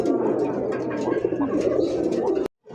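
A male pigeon in a cage coos close by, its deep, rolling calls running continuously before a short pause and a final resumed call.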